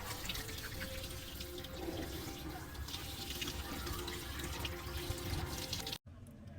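Tap water runs steadily into a sink while squid is washed by hand for adobong pusit, with splashing and dripping close by until a brief cutoff near the end.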